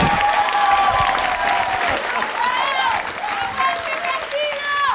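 Sustained audience applause for a singer on a Spanish-language talk show, dense and steady for the whole stretch, with cheering voices rising through the clapping.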